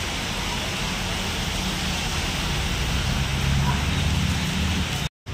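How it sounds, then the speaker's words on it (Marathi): Heavy rain pours down steadily outside a shop as a dense, continuous hiss and patter, loud and close, with no break until a brief cut near the end. "तर किती मोठा पाऊस आहे."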